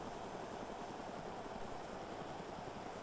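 A helicopter flies in a flight simulator video game, giving a steady, quiet rotor whir and engine hum that holds even throughout with no talk.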